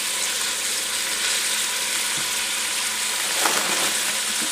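Meat fries in a pot on medium heat for Filipino pancit canton stir-fry noodles, giving a steady close sizzle with soft crackles throughout and a brief stir partway through.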